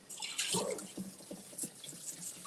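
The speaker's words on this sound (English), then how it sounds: "so we're gonna give this a rinse and then rinse it off again" Tap water running and splashing over raw chicken in a kitchen sink, a soft, low-level patter and trickle with small drips.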